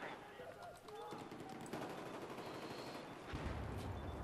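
Sustained LMG machine gun fire in Battlefield 4, a dense rattling stream of shots running the whole stretch, loud and close, with a heavier burst near the end and voices mixed into the battle noise.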